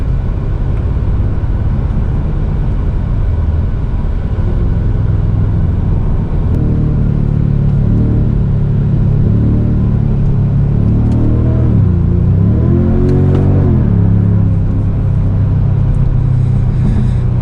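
Genesis G70 Shooting Brake in sport mode with active sound design set to strong, its engine rumbling loud and close, a steady drone that swells with revving and rising pitch sweeps partway through, no talk.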